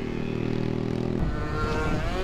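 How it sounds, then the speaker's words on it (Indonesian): A loud motorcycle engine on a Sunday morning group ride in heavy traffic, a close, droning idle that shifts partway through into a rougher, rising rev, with no speech over it. "berisik banget motor"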